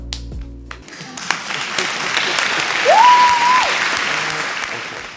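Enthusiastic applause and clapping from a group fill the space after a brief sound cut, loud and sustained for several seconds with a faint tonal whistle rising briefly midway.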